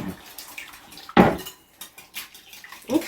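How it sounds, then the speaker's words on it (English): Eggs for challah French toast batter whisked in a bowl, quick clinking and tapping of the whisk against the bowl with one sharper clatter, close and fairly loud over a quiet background. "I'm just going to go ahead and whisk this together."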